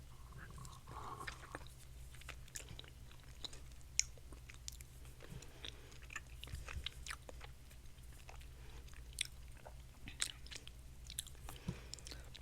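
Crystal candy coated in sour powder is chewed close to the mic, with quiet, irregular crunches and sticky mouth clicks over a low background hum, and no talking.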